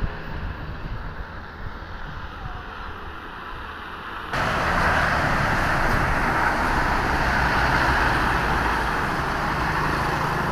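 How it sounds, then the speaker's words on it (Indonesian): Steady road traffic roar with trucks passing nearby on the Babat–Bojonegoro road in East Java, Indonesia, growing louder partway through as heavier wind-blown rumble fills the scene. "Banyak truk cakep lewat jalan Babat Bojonegoro ini."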